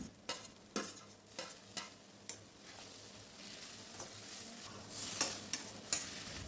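Vegetables, including beans and green peas, sizzle and scrape in a pan as they are stirred for barnyard millet kichadi, with repeated sharp clatters of a spatula against the pan.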